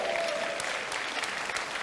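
An audience at a Blender keynote by Ton Roosendaal breaks into steady, dense applause, a loud wash of clapping throughout.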